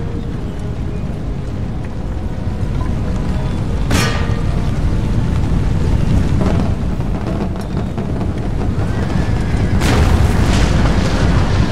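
A dense, continuous battle din from Empire: Total War, with heavy booming volleys and sharp cracks of gunfire standing out against a constant low rumble, and no voices.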